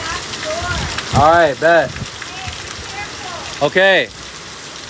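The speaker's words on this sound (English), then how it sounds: "This is the heaviest rain that we've gotten so far." Very heavy rain during Hurricane Helene makes a steady, dense hiss that runs through the whole clip, while people talk briefly over it.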